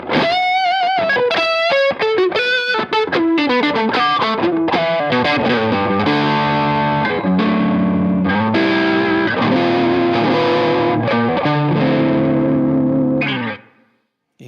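Electric guitar with single-coil pickups played through a TWA Hot Sake overdrive pedal, a loud continuous stream of driven chords and melodic lines with effects, ending abruptly near the close.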